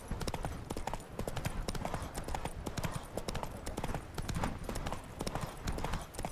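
Rhythmic clip-clop of a horse galloping in The Witcher 3: Wild Hunt, steady and close, with hoofbeats driving continuously throughout and no talk.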